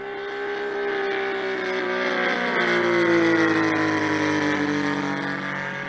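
A Saito FG90 R3 four-stroke engine on a TF Corsair RC plane runs steadily in flight, a buzzing drone whose pitch slowly shifts as it passes, moderately distant, no voices.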